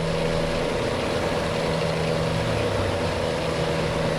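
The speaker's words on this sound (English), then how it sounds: "every time you get to a little bit of a hill, you can hear that engine working" A Mack R heavy-haul truck engine in American Truck Simulator labours uphill, a steady loud droning rumble with a constant low tone and no pauses throughout.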